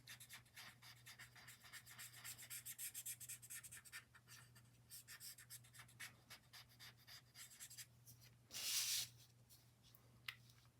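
A graphite pencil shades inside small sections of a Zentangle tile, giving soft, close scratchy strokes in short repeated bursts with pauses, quiet throughout, plus one louder brief rub near the end.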